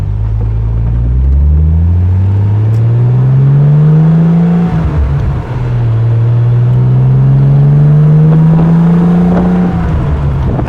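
A 1973 Triumph TR6 with about 80,000 miles and a recently replaced clutch, heard from inside while driving: its engine drones loud and close, climbing in pitch through two long pulls with a brief dip at a gear change.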